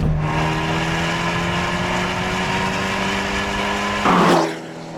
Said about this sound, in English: Abarth have given it something called the Record Monza exhaust system.